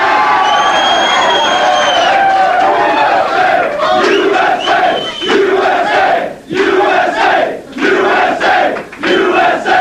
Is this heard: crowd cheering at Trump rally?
yes